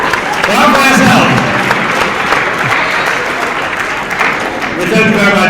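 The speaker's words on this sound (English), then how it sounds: "Clap for yourself." Students at an exam preparation seminar clap for themselves, a loud dense burst of applause lasting several seconds, with voices rising over it near the start and end.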